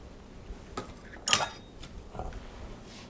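A fork clinks against a bowl while mixing beans and salsa for bean and cheese enchiladas, a few scattered light taps and one sharper metallic chink over quiet background.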